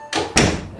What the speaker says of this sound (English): So if we close the door